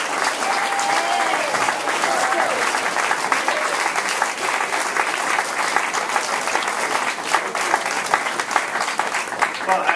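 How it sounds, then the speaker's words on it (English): Sustained audience applause fills the room at a Maryland event introducing the Attorney General, dense steady clapping from a large crowd with no pauses. "I can see the applause is due to my amazing introduction."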